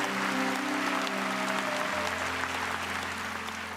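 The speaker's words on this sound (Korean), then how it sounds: "우리 하나님께 감사의 박수 올려 돌리십시오." A church congregation applauds at a dawn prayer service, steady dense clapping from many hands filling the room, with a sustained organ or keyboard chord underneath.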